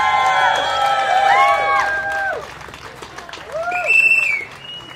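Crowd at an outdoor Norwich Pride rally cheering and applauding, loud whoops and rising and falling shouts over a bed of clapping, swelling again near the end.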